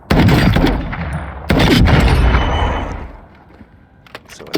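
Semi-automatic gunfire in a shooter video game, a loud burst of rapid shots, a short pause, then another sustained volley that trails off into quieter scattered shots.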